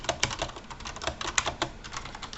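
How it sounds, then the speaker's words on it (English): Quick bursts of typing on the small clicky non-mechanical keys of an Azio Levetron Mech4 keyboard, sharp close taps in an uneven rhythm with no voice. "These are the only non-mechanical keys, by the way. If I didn't say that yet, they're just little clicky keys."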